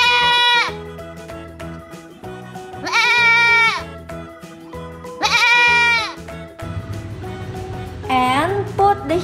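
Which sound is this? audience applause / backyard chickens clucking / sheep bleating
sheep bleating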